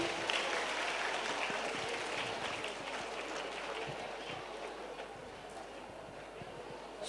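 Sustained applause from an audience at a school quiz contest ceremony, welcoming a guest being honoured with a garland. Dense, steady clapping fills the whole stretch at a moderate level, tapering only slightly toward the end.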